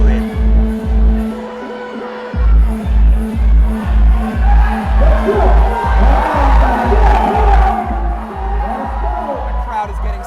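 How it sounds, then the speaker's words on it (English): A crowd at an indoor climbing competition cheers and shouts over a pounding, steady beat of loud music, the crowd noise building and swelling through the middle of the stretch. "The crowd is getting psyched."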